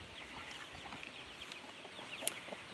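Chickens cluck softly in a farm coop that also holds young chicks, with scattered chirps and clucks over a steady hiss of background noise. The birds sound faint and a little distant, and no one speaks.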